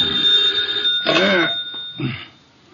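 An old telephone rings in a radio drama, two short bursts of ringing separated by a pause, close and fairly loud against a quiet room.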